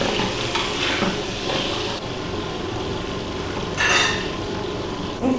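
Onion, green chili, ginger and garlic pieces fry in a hot pan in a home kitchen, giving a steady close sizzle with scraping stir strokes and a brief louder burst of spattering partway through, no talking.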